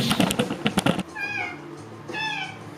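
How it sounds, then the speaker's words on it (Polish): A cat meows twice indoors, each a clear, rising mew close by, following a burst of rapid clicking like typing on a keyboard. "Kotek."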